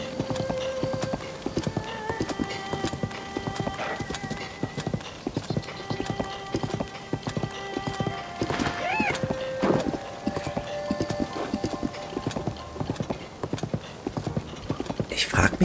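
Horse hooves clip-clop in a steady galloping rhythm as a rider travels in the video game Zelda: Tears of the Kingdom, with a brief whinny partway through.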